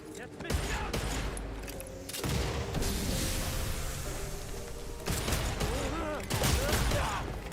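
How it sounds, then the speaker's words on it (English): Gunfire in Redfall, a video game: dense bursts of shots and booms run almost continuously at moderate loudness, with a person talking over the firefight. "Who's shooting at me? From where?"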